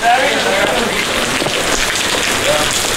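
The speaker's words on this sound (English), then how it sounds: "And it's raining" Steady rain patters loudly and close by on a surface, a dense constant hiss that continues throughout.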